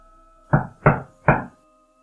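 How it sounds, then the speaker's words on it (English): Three loud, abrupt knocks on a door, evenly spaced and hollow-sounding, ring out close by over a faint low hum, with no voices. "An abrupt knocking sound came at the door. It was loud enough to make me jump."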